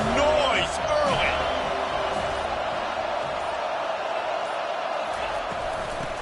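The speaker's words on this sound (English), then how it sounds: "This crowd bringing the energy and noise early." A basketball arena crowd roars in a steady, loud wash of noise, with a few ball bounces and whistle-like squeaks early on, while a commentator talks over the din.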